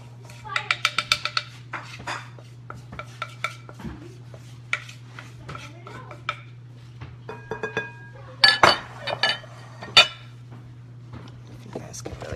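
Spoon clinking and scraping against a bowl while leftover cranberry mixture is stirred, with a quick run of sharp clinks at the start and scattered knocks after, over a steady low hum.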